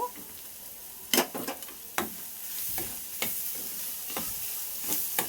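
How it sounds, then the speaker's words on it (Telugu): Soy chunks (meal maker) fry in a pan with a steady hiss and sizzle, broken by several sharp scraping stirs of a spatula, close and fairly loud with no talking. "ఇలా మిల్ మేకర్ వేగుతుంది కదా"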